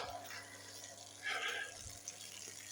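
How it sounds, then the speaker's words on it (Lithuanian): Faint, steady trickle of water running from a small borehole, with a brief louder gush in the middle, heard from close by with no voices. "Va, vanduo bėga."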